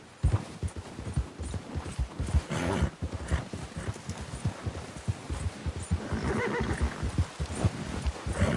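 Horses whinny loudly over a busy clatter of hooves, with rumbling movement and scattered thumps throughout, a dense, continuous outdoor scene in the video game Red Dead Redemption 2.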